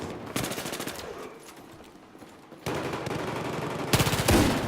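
Repeated automatic gunfire in a shooter video game, with loud rapid bursts starting and stopping across a few seconds, with quieter gaps between volleys.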